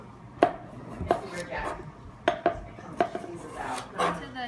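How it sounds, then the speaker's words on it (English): A knife slices through washed raw potatoes on a cutting board for cheesy potatoes, giving sharp, close chops in an irregular run of about seven cuts, each with a brief clack against the board. "once you wash your potatoes, you slice them about that thick for the Burr's cheesy potatoes"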